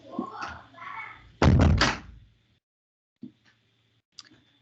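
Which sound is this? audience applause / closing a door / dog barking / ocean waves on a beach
closing a door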